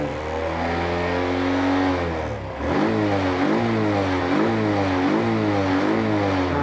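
A motorcycle engine revs up from idle, a loud close drone whose harmonics dip briefly and then climb and waver as the throttle opens, sustained without talk.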